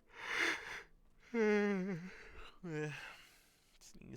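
A drawn-out, voiced yawn in a Final Fantasy XIV game, rising and falling in pitch, followed by a shorter second yawn, with breathy noise before and after.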